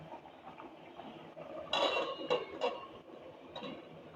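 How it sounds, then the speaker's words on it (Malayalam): A metal lid is set onto a pot of boiling salted tapioca, producing a few close clinks and a scraping clatter, then a lighter tap, over a low quiet background. "നമുക്കിത് മൂടി വെച്ച് വേവിക്കാം."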